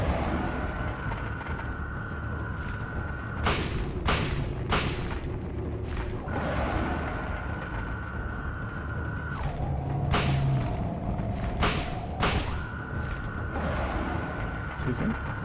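Gunshots in the video game Silent Hill 1, fired at a monster: sharp, loud reports come in spaced pairs and singles over a steady droning backdrop, with a voice talking in between.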